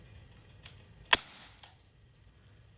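A Crosman MK45 CO2-powered BB pistol fires a single sharp, loud crack, followed by a faint metallic tick, in a quiet outdoor setting.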